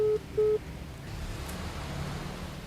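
A phone call ringback tone plays twice, two short steady electronic beeps over a low hiss, then only quiet background noise.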